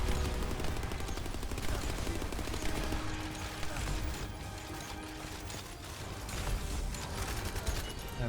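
Rapid sustained gunfire from emptying a magazine in The First Descendant video game, a continuous fast rattle of shots with a mechanical clatter running for several seconds, moderately quiet and steady.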